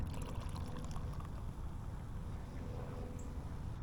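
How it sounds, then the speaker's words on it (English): A drink pours steadily into a glass, a continuous close splashing trickle that runs the whole time, with faint background noise and no talking. "pour myself another drink real quick."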